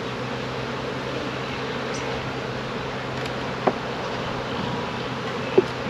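Honey bees hum in a dense, steady drone at an opened hive on a cold spring day, with a couple of brief close taps.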